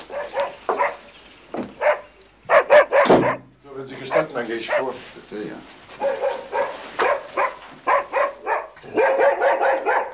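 A dog barks in repeated bursts inside a house, the yaps mixed with people speaking nearby.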